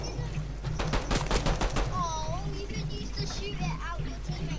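Rapid bursts of gunfire from a Fortnite match, a quick string of shots clustered near the start, layered under children's excited shouting and game noise.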